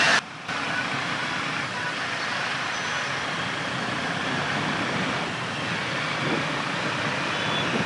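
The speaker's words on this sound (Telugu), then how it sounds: "హనుమాన్ జంక్షన్లో బీభత్సమైన ట్రాఫిక్ జామ్ ఉంది, లోగా మోగుతున్న వెహికల్స్." Dense roadway noise from a traffic jam at Hanuman Junction, a steady rumble of trucks, buses and cars with faint horn and beep tones rising now and then above the drone.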